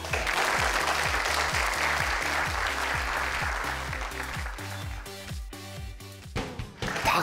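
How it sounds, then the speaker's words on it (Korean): Applause from an audience after a young entrepreneur's talk on a TV startup-pitch programme comes as a sustained, loud round of clapping over steady music. It thins out toward the end. "박수 소리가 전화 왔을 때보다 훨씬 더 좋아요"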